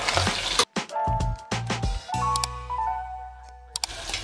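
Sesame, pork and rice sizzling and frying in a pan for Khasi jadoh, with a spoon stirring and knocking against the pan in short bursts over a steady close-up hiss.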